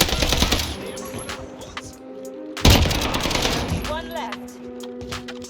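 STG rifle fire in the video game Warzone, sounding as rapid full-auto bursts in the opening two seconds and again after a sharp loud report near the middle, close and loud with sustained tonal game sounds underneath.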